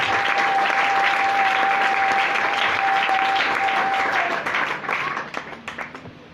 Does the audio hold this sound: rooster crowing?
no